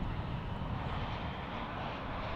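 A bright yellow Spirit Airlines airliner inbound from Las Vegas, arriving at DFW airport toward runway 18 right, its engines giving a steady, loud, broad roar without pause and with no voices.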